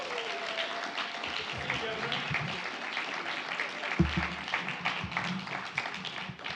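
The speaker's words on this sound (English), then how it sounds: "Ambassador Tom Udall, another round of applause, please." Audience applause at a chimp homecoming celebration, a steady wash of clapping that runs the whole way through, with voices talking over it and a sharp knock partway in.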